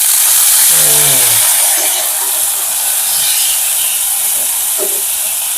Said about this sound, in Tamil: வெங்காயம் நல்லா பொரிஞ்சிட்டு நாங்க வைத்தங்காய் போடுவோம்.